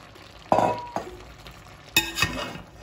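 Kuyrdak with potatoes is stirred in a frying pan: a few separate scraping, clinking strokes of the utensil against the pan, spaced apart, over a faint sizzle, with no talking.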